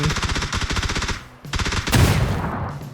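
Rapid automatic gunfire in PUBG, a dense stream of close, loud shots in two bursts separated by a brief pause, with a heavier blast near the end.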